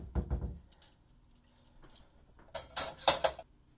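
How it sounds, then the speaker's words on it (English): A metal steaming basket is set into a kitchen pan holding about two inches of water, giving several close metallic clanks and rattles in two bursts, the first short and the later one louder, with quiet pauses between. "Put a steaming basket in the pan."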